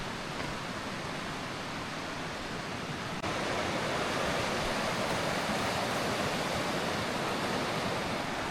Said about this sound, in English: it's likely to get a little noisy because the river is moving pretty good